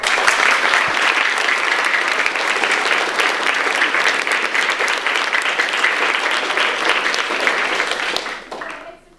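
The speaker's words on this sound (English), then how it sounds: "So I'd just like to give a round of applause to everybody who actually raised that money" A school audience applauds students who raised money for a charity, loud, sustained clapping from many hands that holds steady before tapering off at the end.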